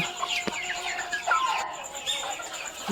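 A flock of around 110 farm chickens clucking and squawking outdoors at feeding time, several close overlapping calls in short bursts over a quiet background, with no one speaking.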